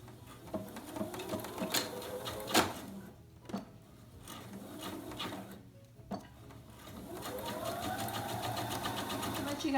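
A sewing machine stitches fabric for an envelope pillow, its mechanical whir rising and stopping in short runs before a longer steady stretch, close by, with a few clicks and handling knocks between bursts.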